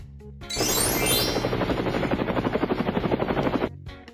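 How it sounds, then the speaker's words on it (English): A helicopter makes a loud, close rotor chop that rises from silence into a fast, steady thudding pulse, then cuts off abruptly. "Helicopter."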